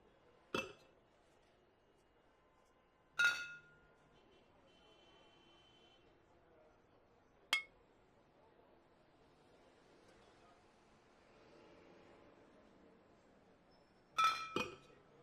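Glasses clink sharply while wine is served in the pub management game Pub Sim: four separate bright chimes spaced several seconds apart over a quiet background, with talking in between.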